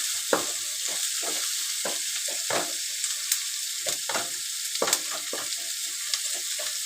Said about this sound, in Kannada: ಅದು ಚೆನ್ನಾಗಿ ಹುರ್ಕೋಬೇಕು.